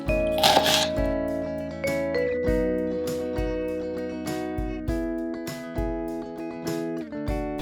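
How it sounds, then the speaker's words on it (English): A knife chops half a shallot on a board in sharp, regular strikes, roughly one every half second to second, clear and close beneath steady background music. "First of all, we chop the shallot."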